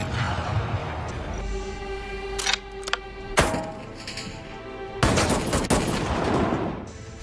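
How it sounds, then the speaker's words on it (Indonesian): Sniper rifle gunshots in a film scene, a handful of sharp, loud cracks spaced irregularly, with ringing echoes and thuds between them over a tense, sustained background. "Tembakan uji coba meleset, tapi setelah itu Jack berhasil menembak target dengan mudah."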